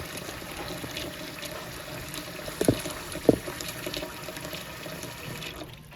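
Tap water pours steadily into a pot around glass jars set in it for home cheesemaking, a continuous splashing trickle with two sharp clinks of glass partway through, close and fairly quiet, with no voices.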